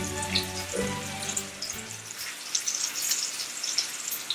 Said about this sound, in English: I already have some bacon in here, looking pretty good. I'm frying for a bit now.